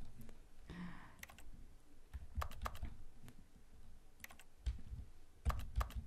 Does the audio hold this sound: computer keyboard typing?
yes